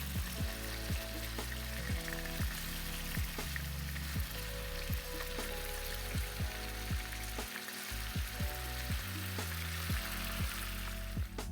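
Homemade meatballs fry in a pan with a steady, moderately quiet sizzle punctuated by frequent sharp pops and crackles of spattering oil, with no talking.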